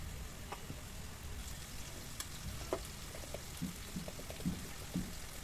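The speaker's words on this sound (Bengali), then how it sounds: "এভাবে প্রায় আরও 2-3 মিনিটের মতো ভালো করে ভেজে নিলাম।" Small kechki fish fry in oil in a pan with a soft, continuous sizzle, and occasional stirring clicks and taps sound close by.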